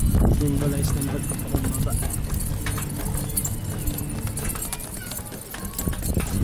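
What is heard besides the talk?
pony hooves clip-clopping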